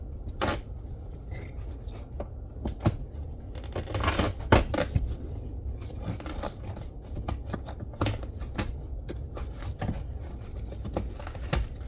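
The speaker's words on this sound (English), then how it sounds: "Because it's toasted, guys, we're gonna cut the leather" Scissors snip repeatedly through old, worn leather car seat upholstery from a 2014 Hyundai Sonata, giving irregular crisp cuts and rustling close up with no talking.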